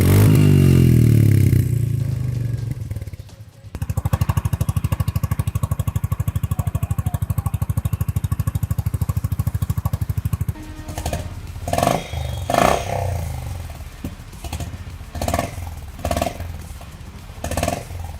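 Royal Enfield Meteor and Honda CB 350 motorcycles heard back to back, with a loud close idle and thumping single-cylinder exhaust, then a steadier engine note with a few revs, and no talk.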